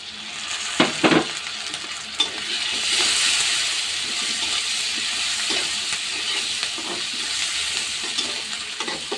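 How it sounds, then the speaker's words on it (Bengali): Capsicum stir-frying in a pan, a continuous close sizzle with a few sharp spatula knocks early on and steady scraping throughout. "ভালো করে ভেজে নেব"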